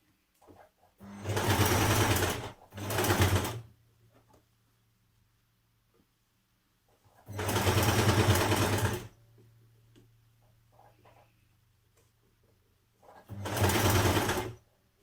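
Seams of a NewLook 6679 dress are sewn on a machine in three separate bursts of close, loud, rapid stitching, the first split in two, with quiet pauses between.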